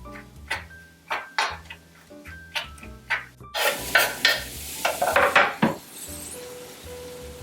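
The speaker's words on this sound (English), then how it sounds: "I'm mixing up the eggplants and the fried garlic together. I let it fry a little bit more." A spoon clatters and scrapes against a frying pan while roasted eggplant and fried garlic are stirred together. The repeated metallic taps come first, then a softer sizzle rises and settles, close and without speech.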